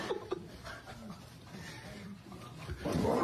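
A dog pants and whimpers excitedly beside a father and son boxing, its soft breathy sounds mixed with brief chuckling and a louder rustle near the end.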